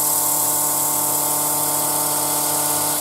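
A drill sander with 120-grit paper running against the edge of a wooden tealight holder, a steady loud close whine with a constant hum and no pauses.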